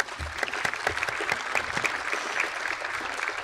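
Audience applause at an awards-style gathering honoring a forty-under-forty honoree, steady dense clapping from a roomful of people with a few sharper claps standing out, holding at an even level throughout.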